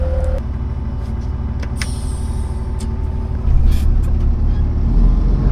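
A John Deere excavator crawls along a farm ditch with a steady, loud diesel rumble and track noise, a brief hiss and clank partway through, and the engine swelling louder near the end; no speech.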